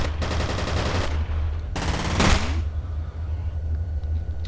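Rapid automatic gunfire from the shooter game F.E.A.R. Extraction Point rattles in two close, loud bursts separated by a short pause, then fades into a low rumble of game ambience.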